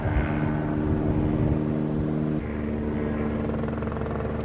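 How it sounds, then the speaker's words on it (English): Steady rotor thrum of a police helicopter circling overhead, a continuous moderately loud drone that shifts slightly partway through. "helicopter police circling the neighborhood"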